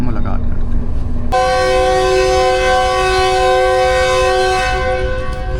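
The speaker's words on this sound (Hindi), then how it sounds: "फर्स्ट डिपार्चर वसल हो गया जी" Pakistan Business Express train at Rahim Yar Khan station sounds a loud, sustained departure whistle that holds for several seconds after a busy platform murmur, then fades as it ends, with voices audible nearby.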